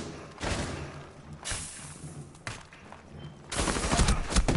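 Bursts of automatic gunfire in the tactical shooter Rainbow Six Siege, several loud broadband cracks spread across the clip, the last second dense with rapid fire.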